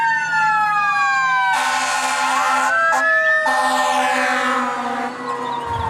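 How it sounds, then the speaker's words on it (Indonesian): Toy fire truck siren wailing loudly and close, a continuous electronic siren with rising and falling sweeps and layered tones that briefly cut out and resume. "Wow, ada mobil damkar."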